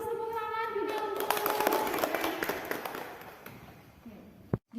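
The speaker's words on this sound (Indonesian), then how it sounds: "Tepuk tangan juga untuk." A vocational school class claps in a lesson, a scattered burst of hand claps rising and fading over a few seconds, with a teacher's voice audible at the start.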